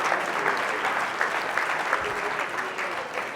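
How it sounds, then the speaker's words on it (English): A conference audience applauds in a steady, dense patter of many hands clapping at once, sustained for several seconds in an indoor hall. "Round of applause."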